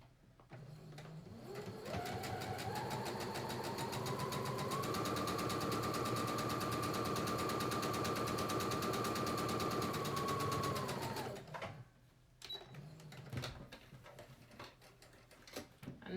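A sewing machine stitches a fabric face mask in a steady, rapid rhythm that ramps up in speed, holds for several seconds, then slows and stops, followed by a few faint handling clicks.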